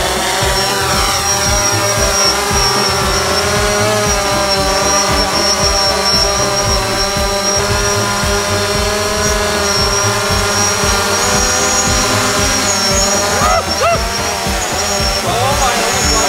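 DJI Mavic Pro and Phantom 4 Pro drones hover close by in a loud, continuous propeller whine with layered steady tones, sustained throughout with no talk.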